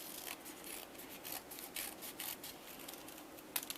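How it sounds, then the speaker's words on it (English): Scissors snip away a small strip of extra paper trim in a quick series of soft, close cuts with faint rustling, quiet throughout. "Cut off the little extra right here."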